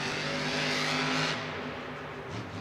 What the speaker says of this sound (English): Ryan Anderson hits the throttle